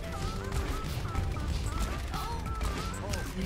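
Rapid gunfire in the Overwatch video game, a dense run of shots and impacts mixed with game effects throughout, with a voice talking over it.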